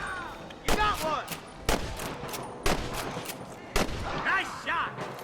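Gunfire in the Red Dead Redemption video game: five loud, sharp shots spaced about a second apart, echoing over a restless outdoor background with faint voices.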